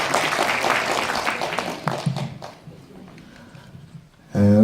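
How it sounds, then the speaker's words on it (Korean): Applause from an audience at a Korean party delegates' convention, welcoming a former minister to the stage for a congratulatory speech; broadband crowd clapping fades over a few seconds, then a voice begins at the end. "큰 박수로 환영해 주십시오."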